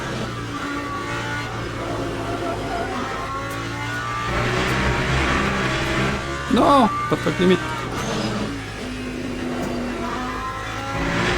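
Race car engines in the sim racing game Le Mans Ultimate, a steady loud engine drone with brief rising revs around the middle as cars come up ahead, under someone talking in French.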